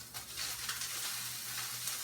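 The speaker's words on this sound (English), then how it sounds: "I can hear it sizzling." Corn sizzles steadily while frying in a pan in a home kitchen: a soft, continuous crackling hiss with no talking.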